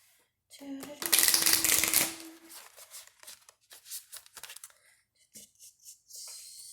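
A deck of Auric tarot oracle cards is shuffled up close, first as a brisk riffling burst and then as a series of soft taps and slides as the cards settle.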